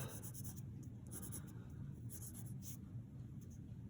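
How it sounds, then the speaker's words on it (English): Pencil sketching an isometric cube drawing on paper: faint, repeated short scratchy strokes over a low background hum, close and quiet, with no talk. "doing the last 6 cube drawing from our isometric sketching practice"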